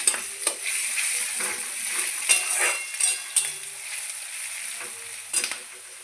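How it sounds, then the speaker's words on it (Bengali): Food fries in a small amount of oil, a quiet steady sizzle broken by sharp clinks and scrapes of a utensil stirring against the pan. "আমি এটা অল্প তেলের মধ্যে রান্না করছি, খুব বেশি তেল দেবো না।"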